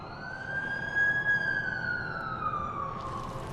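A wailing ambulance siren from The Amazing Spider-Man 2 video game sweeps in a steady rising and falling tone for several seconds, loud and close, with no talking over it.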